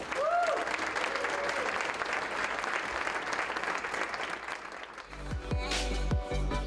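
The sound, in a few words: banquet audience round of applause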